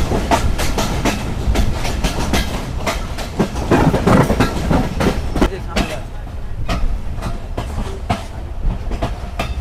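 The Banglabandha Express runs on the rails, with steady clickety-clack wheel beats and a rumbling carriage ride heard from inside the train, loud and continuous.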